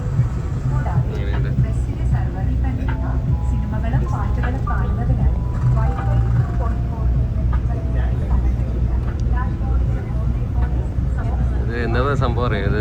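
A KSRTC Volvo business class bus with a manual transmission gearbox drives along from Trivandrum to Ernakulam, its steady low engine rumble and road noise continuous beneath someone talking throughout.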